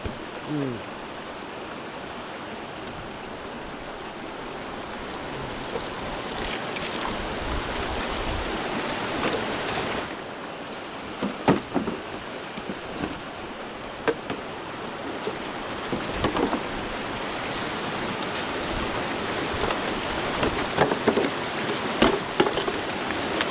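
The Dumacaa River flows past a riverside hut in a steady, broadband rush of water that fills the whole stretch, with occasional sharper splashes and knocks rising out of the constant flow.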